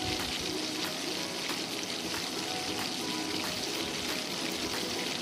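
Ivy gourd (dondakaya) frying in a pan, a soft, steady sizzle and crackle throughout with faint stirring scrapes, fairly quiet and close.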